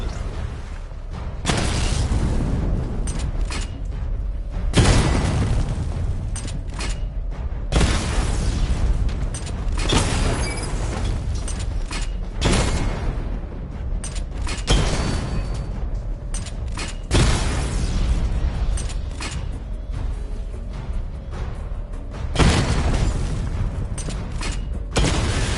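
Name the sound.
missile barrage explosions in video game Batman: Arkham Knight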